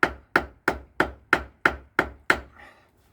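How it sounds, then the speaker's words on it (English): Pohl Force Tactical 9 knife used as a hammer, its flat end striking wood in eight sharp, evenly spaced blows, loud and close, with no voice over them. "I am not worried to use this as a hammer"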